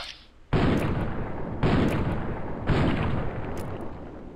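Three heavy, booming gunshots ring out at roughly one-second intervals in Fallout: New Vegas, each a loud blast followed by a short fading tail.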